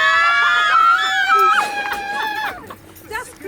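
Several people scream together on cue at a graduation gathering, a loud shrill burst lasting a couple of seconds before it breaks off into chatter and laughter.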